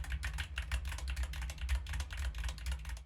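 Steady, rapid typing on a computer keyboard, close and clear, with clicky keystrokes running continuously and no voices, recorded as a test of a FiFine K678 USB microphone.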